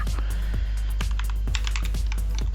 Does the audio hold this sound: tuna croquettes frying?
no